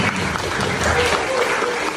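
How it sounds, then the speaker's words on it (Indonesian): Audience at a Catholic religious instructor selection event clapping hands in brisk, dense applause throughout, with voices faintly audible beneath the clapping. "Mari kita tepuk tangan dulu. Ayo yang semangat, tepuk tangan."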